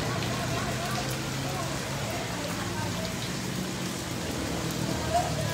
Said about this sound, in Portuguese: Talvez a maior chuva desse ano.